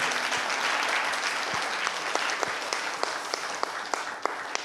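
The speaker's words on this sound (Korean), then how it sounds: "용기 내어서 말씀해주신 우리 김동현 학생에게 박수 한번 보내주세요." An audience claps steadily for a few seconds, a dense wash of many hands with a few sharper claps standing out.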